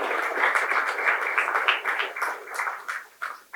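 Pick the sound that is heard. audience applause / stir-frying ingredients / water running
audience applause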